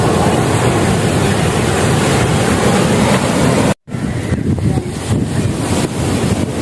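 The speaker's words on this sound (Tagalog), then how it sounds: "Ang lakas ng alon!" Sea waves surge and wash onto a beach in Sri Lanka, a loud continuous roar of surf mixed with heavy wind buffeting the microphone, with a brief dropout partway through.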